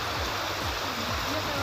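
Strong floodwater rushes in a steady, dense roar after heavy rain and a landslide in Uttarkashi, loud and continuous with no breaks.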